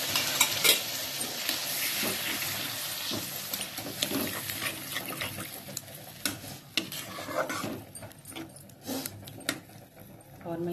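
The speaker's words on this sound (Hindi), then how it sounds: "अब मैं इसमें डाल दूँगी थोड़ा सा पानी, क्योंकि मसाला पड़ गया" Water poured into sizzling masala in a pan while cooking besan curry, with continuous frying hiss, stirring scrapes and small splatters at close range under quiet background sounds.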